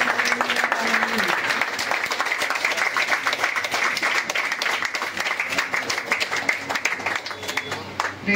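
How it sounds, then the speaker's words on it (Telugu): A church congregation at a worship service claps and applauds in a dense, continuous burst that holds steady throughout. Voices can be heard under the clapping. "చప్పట్లు కొడదాం"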